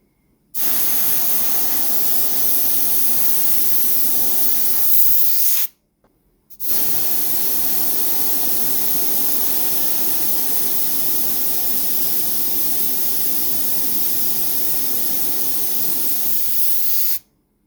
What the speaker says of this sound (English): first I'm going to prime everything in a nice black.